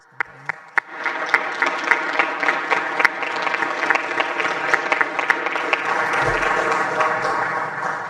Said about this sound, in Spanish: Un aplauso para nuestras compañeras.